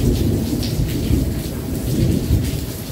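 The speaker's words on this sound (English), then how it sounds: "It needs to stop raining." Steady heavy rain pours with a low rumble of thunder rolling underneath, loud and close, with no voices.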